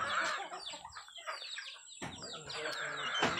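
Chickens clucking and squawking nearby in a rapid series of calls, with breaks and a louder burst toward the end over some background noise.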